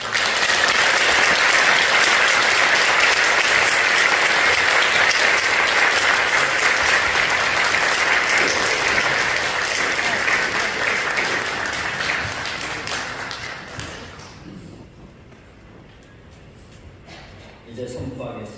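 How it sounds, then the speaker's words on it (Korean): A church congregation breaks into sustained, loud applause, a dense wash of clapping that holds steady for about thirteen seconds, then thins and fades before a brief final swell. "우리 교우님께서 큰 박수로"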